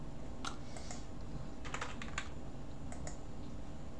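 Typing on a computer keyboard with an English default layout, short bursts of quiet, close key clicks separated by pauses over a low steady hum.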